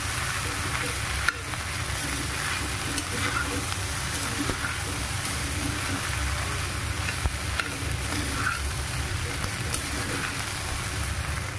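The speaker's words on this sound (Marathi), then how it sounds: "आणि हे तांदूळ पण टाकून घ्यायचं आणि हे चांगलं मिक्स करून घ्यायचं." Rice tossed and mixed with paneer in a hot pan for paneer fried rice, giving a dense, steady sizzle close by with faint intermittent stirring scrapes.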